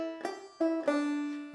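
A short banjo drop-thumb phrase from the tune Old Straw Bonnet, a few bright plucked notes in quick succession, ringing clearly and alone.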